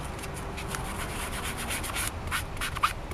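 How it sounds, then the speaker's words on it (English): A medium grit sanding sponge rubs over a painted clone trooper helmet in quick repeated strokes, a close, steady scratchy swishing with no talk. "I'm going to be using the medium grit sanding sponge. Basically, I'm going to be knocking down the shine with this"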